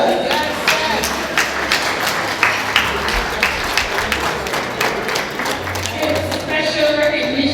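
A round of applause at an alumni anniversary gala, many hands clapping in a steady dense patter for several seconds, with crowd voices and chatter mixed through it.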